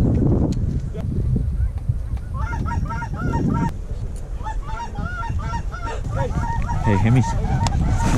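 Canada geese honk repeatedly in a loud, overlapping chorus during a hunt in the Texas Panhandle, calls layered over steady wind-like background noise with a few faint voices.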